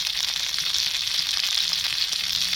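Venison sausages sizzle in lard on a Trangia camping stove, a steady close, dense crackle of hot animal fat that runs unbroken throughout with no talking.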